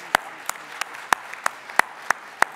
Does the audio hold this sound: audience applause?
yes